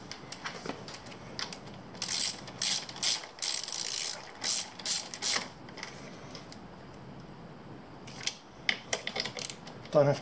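A hand ratchet tightening bolts on the front brake of a Suzuki DR650 motorcycle, quick bursts of sharp clicking strokes in rapid runs with short pauses, close by, with someone speaking briefly between.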